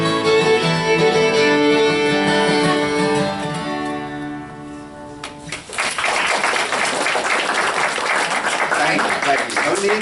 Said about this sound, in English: No need to applaud.